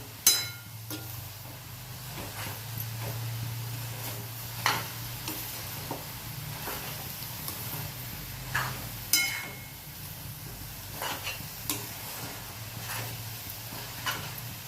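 A vegetable dish is stirred in a pan as it cooks with salt: a low steady sizzle runs under scattered scraping clinks of a spoon against metal, each stroke sharp and close, with no talking.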